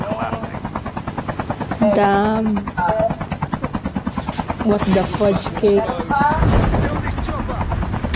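A Call of Duty Mobile helicopter keeps up a rapid, pulsing rotor chop throughout, loud and close, while players talk and shout over it.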